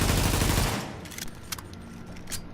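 A G36 carbine rifle in the video game The Division fires a loud, dense full-auto burst that cuts off after under a second, leaving a quieter tail with faint clicks.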